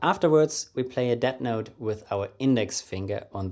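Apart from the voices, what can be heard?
No distinct noise like a dog, phone or traffic.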